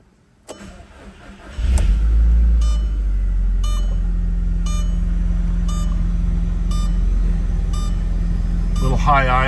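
A 2002 Audi TT 225hp Quattro cranks over and starts cold, then settles into a steady, fairly high idle with a constant low engine hum, close and loud, with a few faint clicks over it.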